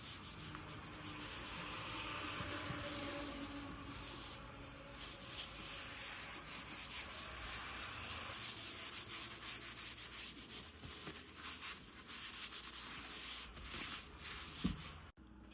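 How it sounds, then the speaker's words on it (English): Steady rubbing of oil over a thrifted cast iron Dutch oven, inside and out, a soft continuous scrubbing swish that runs for the whole stretch at low level with a small knock near the end. "So I'm just going to take my oil and rub it everywhere."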